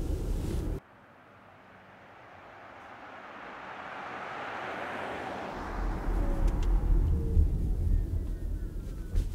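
Audi e-tron Sportback electric SUV on the move: a sharp sound cuts off at the start, then a low cabin hum and road rumble swells gradually and grows louder with bumpy tyre noise toward the end.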